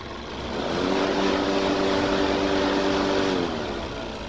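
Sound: Viking lawn mower engine starting and running

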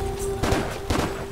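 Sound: gunshots in the video game Stranglehold

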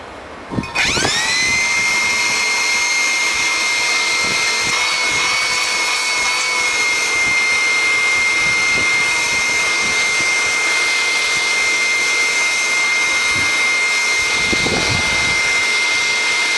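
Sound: Dirt Devil vacuum cleaner running after repair

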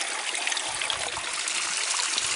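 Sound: ice-cold spring water flowing from a Black Forest spring

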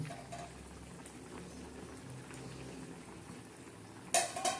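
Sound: onion vegetable curry simmering in pot

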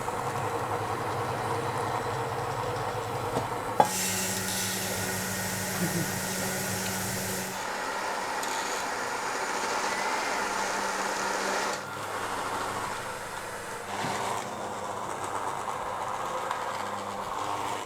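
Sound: electric mixer mixing bread dough

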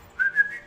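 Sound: whistling

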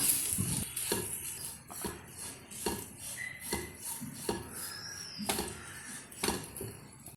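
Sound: stirring turmeric, chili powder and coconut into green gram thoran

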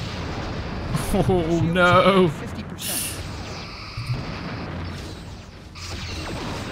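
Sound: starship weapon fire and explosions in Star Trek Ship Battles video game

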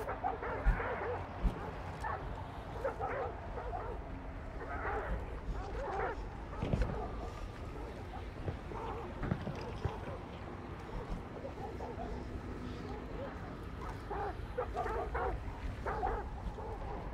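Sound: dogs barking in video game Hunt: Showdown

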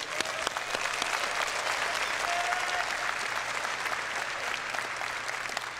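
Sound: audience applause at CitizenCon event

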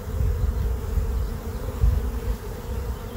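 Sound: honeybees buzzing in a National beehive

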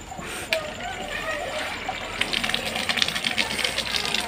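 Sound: water pump motor switched on, water gushing

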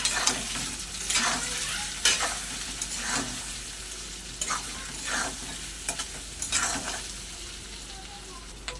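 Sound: sautéing spices with chili powder and salt

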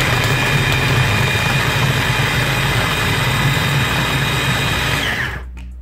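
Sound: mini chopper chopping onion, garlic, hot peppers and parsley

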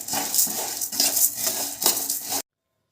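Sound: sago pearls being fried and stirred in pan

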